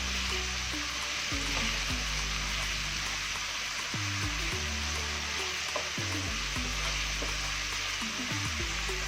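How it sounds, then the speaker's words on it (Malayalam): Onions sizzle and fry in a pan for onion rice, a steady loud crackle with occasional stirring scrapes and clunks of the spoon against the pan, and no talking. "നമ്മുടെ ഉള്ളി ഇവിടെ ഫ്രൈ ആയി."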